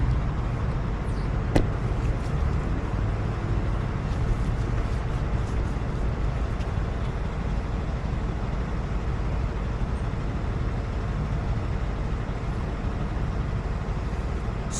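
A 1996–2002 Mercedes-Benz E320 W210 engine idles steadily with a constant low drone and hum, close by and alone, with one brief tick early on.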